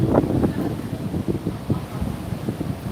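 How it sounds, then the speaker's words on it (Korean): Stormy coast at Seogwipo on Jeju as Typhoon Hinnamnor nears: steady wind roar buffets the microphone while rough sea waves crash in repeated low surges, a continuous dense wash with no voices. "비바람이 몰아치고 검은 구름이 잔뜩 끼인 날씨고 파도는 더욱 거칠어지고 있습니다"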